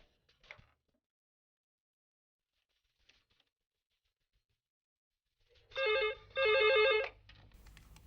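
A telephone bell rings twice in quick succession, loud and close, with electronic trilling bursts after a long stretch of near silence with faint knocks.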